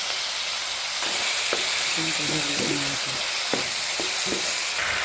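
Pork, garlic and onion sautéing with tomato sauce in a pan, giving a continuous loud sizzle with several short knocks of a stirring utensil and faint fragments of a voice underneath.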